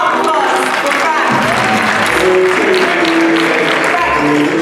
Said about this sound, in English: I want round of applause for Frank